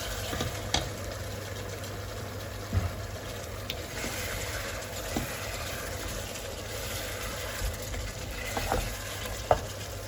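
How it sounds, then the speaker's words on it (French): A pot of Congolese meat broth gets stirred after tomato is added to the cooked meat, giving a soft continuous bubbling sizzle with occasional spoon scrapes and knocks against the pot, close by and without talk. "quand notre viande a cuit, on va venir rajouter la tomate. On va mélanger."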